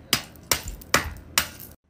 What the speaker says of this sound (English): Now let's break the rest with the hammer.